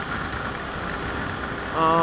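A BMW F800R motorcycle engine runs steadily close by with a rough, even drone that rises slightly in loudness at the very end, as if starting to rev.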